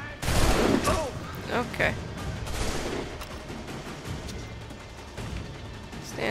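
Volleys of musket and rifle gunfire in the video game Assassin's Creed 3, loud bursts of overlapping shots early on, then scattered cracks amid battle noise, with someone talking over it.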